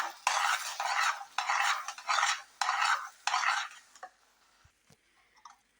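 A spoon stirs ground cardamom and nutmeg powder into a thick puran filling of cooked lentils and jaggery in a pot, making five scraping, swishing strokes up close before it fades to faint clicks.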